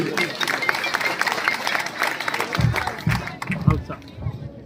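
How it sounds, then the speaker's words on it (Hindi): Crowd applause for children at a 2023 community talent award ceremony, a busy wash of clapping mixed with voices and murmur, with a few heavy thumps near the end before it fades. "जोरदार ताली बजाइए इन बच्चों के लिए।"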